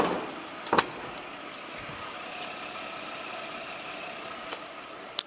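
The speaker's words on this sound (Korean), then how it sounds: "아직까지 굉장히 정숙한 엔진 소음 기대하실 수가 있습니다" A Hyundai large sedan idles with its hood closed, giving a quiet, steady low hum with a faint click or two near the start and end.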